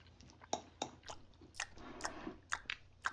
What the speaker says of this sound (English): He smacks his lips so loud